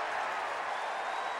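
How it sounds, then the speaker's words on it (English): Stadium crowd roaring and cheering at a Rockies–Dodgers baseball game after a big ninth-inning out, a dense distant wash of noise. "A big cheer."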